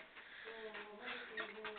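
A pigeon gives a short run of soft, low, throaty coos, close by, over faint background noise.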